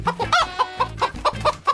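A chicken clucking close by in a rapid run of short, nasal, rhythmic clucks and squawks, loud and unbroken.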